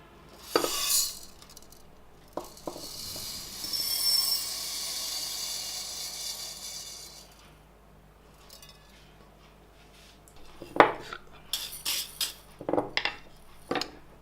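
Used silica gel beads pour into a bowl with a long hissing rattle, framed by scattered clinks and taps of the container, close and moderately quiet with no talk.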